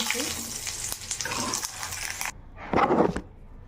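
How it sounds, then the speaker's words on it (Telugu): Garlic and curry leaves sizzle hard in hot oil while being stirred, a bright crackling hiss with utensil scrapes, cutting off sharply before a final short burst of sizzle. "మూడు లేక నాలుగు వెల్లుల్లి రెమ్మలు అలాగే కొద్దిగా కరివేపాకు ఇప్పుడు వీటిని ఒకసారి బాగా కలుపుకోండి"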